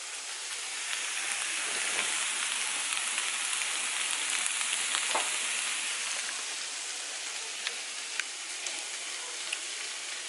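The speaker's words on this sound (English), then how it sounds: "I got my vegetables cooking." Vegetables frying in a pan give a steady, moderately loud hiss of sizzling oil with scattered small pops, continuous and without talk.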